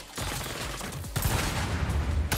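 A minigun in the Saints Row video game firing in continuous rapid bursts, loud and dense, with a short break and renewed fire and a final shot near the end.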